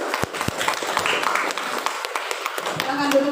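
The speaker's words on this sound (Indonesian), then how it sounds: "beri tepuk tangan kelompok 5" Scattered claps ring out as a classroom applauds a student group after its presentation, sparse, uneven taps over chatter and voices.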